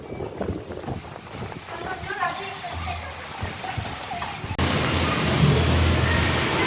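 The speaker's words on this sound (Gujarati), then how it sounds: "વરસાદ ચાલુ થઈ ગયો જો" Unseasonal rain patters under a person speaking, then abruptly becomes a louder, denser downpour hiss for the last couple of seconds.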